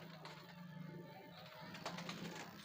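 A female Shahjahanpuri high-flyer pigeon in a pigeon setup coos softly, a faint low murmuring call repeating through the short stretch with light background noise.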